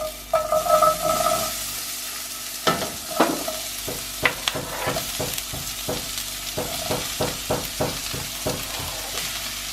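Onion tipped into a pan of two tablespoons of hot oil sizzles loudly and close. A run of sharp scraping strokes from stirring repeats in a quick rhythm over the constant fry, with no talking.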